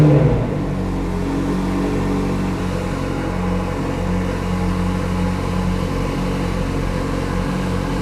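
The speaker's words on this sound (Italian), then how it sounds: "ora vi faccio sentire cosa sono 1000 cavalli con uno scarico in titanio su un motore biturbo" McLaren Senna twin-turbo engine of about 1000 horsepower with a titanium exhaust, warmed up, droning at a steady loud pitch close by after an initial surge, with no voices.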